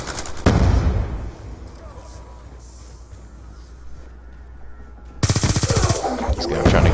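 Automatic rifle fire in Call of Duty: Black Ops, a loud burst at the start and another sustained burst near the end, with quieter game ambience between.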